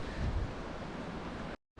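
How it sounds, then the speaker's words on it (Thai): Heavy ocean surf roars continuously with rumbling low wash, broken briefly by a moment of silence near the end, on Madeira island, Portugal. "วันนี้คลื่นแรงคลื่นสูงมาก"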